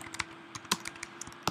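Short burst of keystrokes on a computer keyboard typing a command while coding a Minecraft Bukkit plugin, a handful of close, distinct clicks in an uneven rhythm with no talk.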